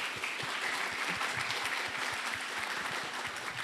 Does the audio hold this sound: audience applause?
yes